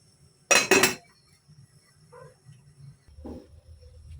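A metal lid set onto a pot of fish tinola: one loud, sharp clanking impact with a brief double rattle, followed by quiet simmering and faint small knocks.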